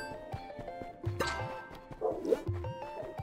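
Dog barking in the video game Undermine: several short, yippy barks and whimpers come in quick bursts at moderate volume over a quiet game soundtrack.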